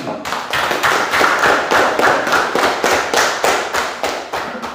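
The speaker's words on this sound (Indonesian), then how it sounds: "tepuk tangan buat kelompok 1" A classroom group claps for the first team after a school science practical, sharp hand claps falling in a steady, rhythmic beat that holds for several seconds, close and fairly loud with no talk over it.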